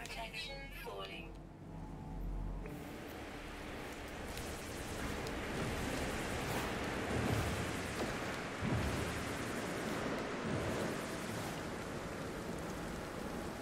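In the No Man's Sky game, steady rain hisses as a broad, continuous wash, and low thunder rumbles swell now and then beneath it. A voice speaks over the storm.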